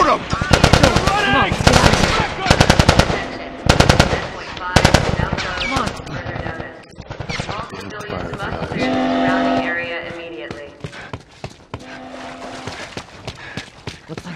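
Gunfire in The Last of Us Part 2 on PS3: loud bursts of rapid automatic shots in the first seconds, then quieter scattered shots mixed with game voices and shouting.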